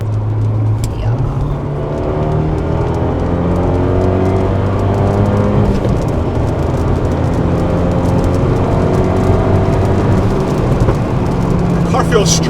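A car engine hums steadily while cruising at night, with a sustained drone whose pitch rises and falls gently as the car accelerates and eases off, close and continuous throughout.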